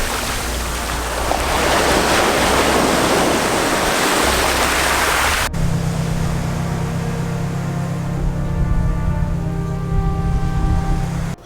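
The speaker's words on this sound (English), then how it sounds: "Choppy waves" Choppy sea waves wash and churn loudly at a kayak launch spot in Jamaica, a dense, steady roar of water with strong wind noise and no speech.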